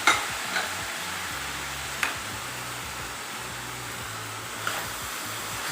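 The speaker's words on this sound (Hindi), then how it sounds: "जो हमने टमाटर क्रश करके रखे थे वो भी हम इसी के अंदर ऐड कर देते हैं।" Crushed tomatoes go into a pan of cluster bean sabzi over a medium flame and are stirred, with a low steady sizzle broken by a few sharp spoon clicks against the pan.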